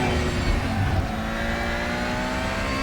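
A DTM 2020 race car in the RaceRoom racing sim accelerates past a BMW M3, its engine a loud, steady, close drone with a slight swell early on that then holds level.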